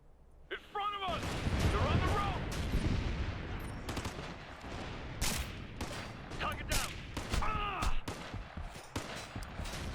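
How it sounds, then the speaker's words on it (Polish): Rapid bursts of gunfire in the video game Ghost Recon: Future Soldier crack repeatedly over a busy, noisy mix, with short voice-like calls and effects scattered throughout. "Znów trzy strzały"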